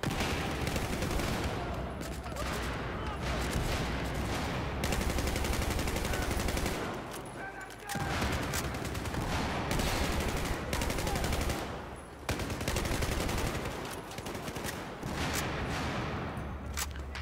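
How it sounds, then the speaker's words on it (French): Battlefield 4 Conquest battle on the Siege of Shanghai map, with loud, nearly continuous gunfire and fusillades broken by brief lulls, sustained across the whole stretch. "c'est surtout des échanges de grenades"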